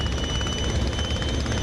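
The rotary engine of a Sopwith Camel biplane drones in flight in the DCS combat simulator, a dense, continuous rumbling roar with a rapid pulsing beat and a thin whine on top, loud and steady throughout.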